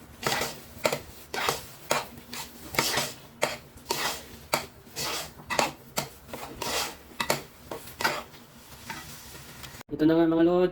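Glutinous rice biko with latik being stirred in a pan: about a dozen rhythmic scraping strokes with sticky sizzling, evenly spaced and close by, ending with a brief different sound.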